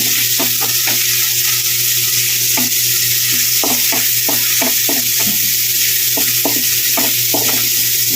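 Onion fries in a pan for sinigang sa miso, a loud, continuous sizzle with a steady hiss and scattered crisp pops and clicks from stirring throughout.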